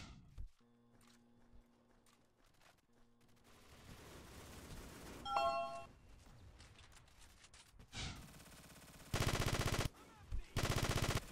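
Video game gunfire sounds as scattered bursts and rapid volleys amid other game effects. The shots start faint and grow louder toward the end, where two sharp, intense bursts stand out.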